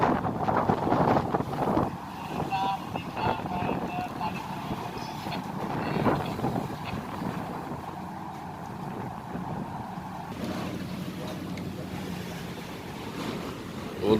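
Strong north wind gusts across the microphone at Merak harbour while waves wash and surge steadily, a loud, rough roar with a constant rumble that lasts throughout.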